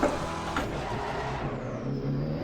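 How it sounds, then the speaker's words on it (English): McLaren 720S race car engine in Assetto Corsa Competizione fires up again, giving a steady low mechanical rumble and hum that fills the short stretch with no talk over it. "I like the fact that you can start the engine up again"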